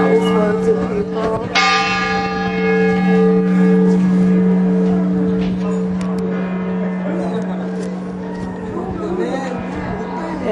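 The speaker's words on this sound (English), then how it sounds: "You hear the bell ringing." Large church bells in Seville toll from nearby, a loud strike early on followed by long ringing, humming decay, with a crowd murmuring faintly underneath.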